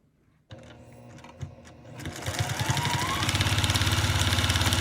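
A sewing machine runs along a seam line on a scrappy quilted mug rug, starting with a few slow single stitches and then speeding into a fast, even, rhythmic whir up close.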